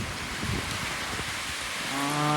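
Heavy rain pours down around a house in a storm, a steady faint hiss of falling water with a low tone creeping in near the end.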